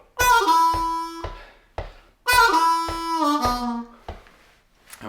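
Harmonica plays a lick from a song, with a 4 draw bent down and slid to the 2 draw. Two loud, reedy phrases with short rhythmic chugs between them, played alone, close up.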